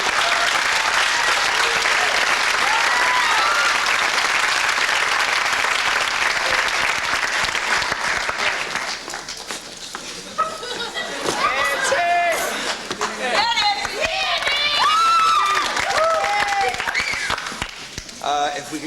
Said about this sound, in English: So we'll give you a round of applause.